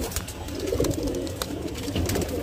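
Soft, low pigeons cooing in a steady murmur, several birds overlapping at close range with faint rustling in the background.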